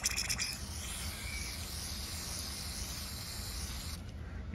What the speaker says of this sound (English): I'm going to spray this off.